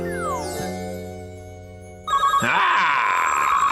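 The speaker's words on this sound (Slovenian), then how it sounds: "če vam zdajle zvoni telefon" Cartoon telephone ringing, tonal electronic ringer notes that fade, then a louder warbling ring with rhythmic pulses bursts in near the end.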